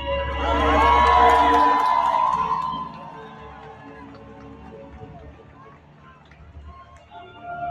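Convention crowd at San Diego Comic Con cheering and whooping as a costumed figure walks through, loud at first then fading into murmuring chatter with voices talking.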